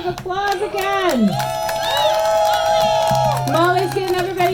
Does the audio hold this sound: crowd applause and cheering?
yes